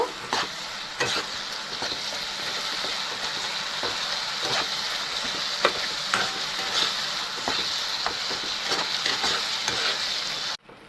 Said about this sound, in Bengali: দুই থেকে তিন মিনিট ভালো করে মশলাটা আমি কষাই নেব